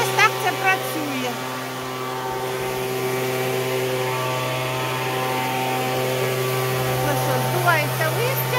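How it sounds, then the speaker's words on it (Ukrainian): A gas leaf blower clears fallen leaves from a yard in the US, its engine a steady, close, droning whine holding a constant pitch, with faint voice-like sounds in the background. "Здувається листя"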